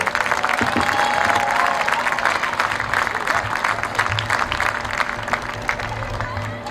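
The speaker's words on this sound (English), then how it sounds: "one more round of applause for the front ensemble" Applause from a crowd at a high school marching band premiere night, honoring the front ensemble; steady clapping with some cheering over a low background hum, fading slightly toward the end.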